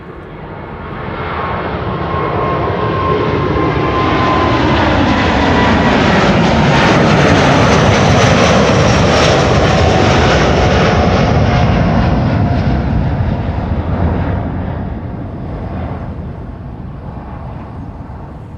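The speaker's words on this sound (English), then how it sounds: "Finally, some wide bodies taking off back to back" Wide-body jet airliners taking off at Amsterdam Schiphol Airport, a loud continuous engine roar that swells to a peak mid-way and slowly fades as the aircraft climbs away, with no voices.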